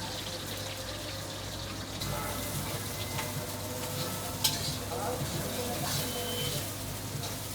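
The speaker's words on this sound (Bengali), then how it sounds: "পেঁয়াজটা আমরা ব্রাউন করে ভেজে নেবো" Chopped onions frying in hot oil on a gas stove until light brown, giving a steady, moderate sizzle over a low hum, with faint stirring and a brief clink partway through.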